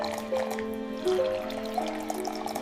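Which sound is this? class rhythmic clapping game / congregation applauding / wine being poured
wine being poured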